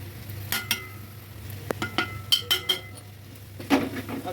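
Onion and spice powders sautéed in a pan, a quiet sizzle broken by a series of sharp spoon scrapes and clinks against the metal, irregular and close, with no talking.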